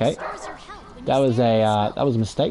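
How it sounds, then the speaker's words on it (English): A pet dog in a home lets out a drawn-out, whining bark with yips close by, mixed in with a person talking over it. "my dog in the background."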